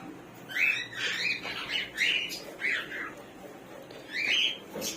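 Several birds in an aviary squawk in short, harsh bursts, fairly close, with a soft background hum and no talking.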